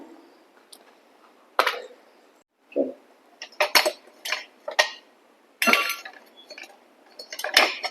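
Clinks and knocks of a metal pan set onto a gas stove while making garlic pickle (lahsun achar), a scattered series of sharp metallic taps and rattles with short quiet gaps between them.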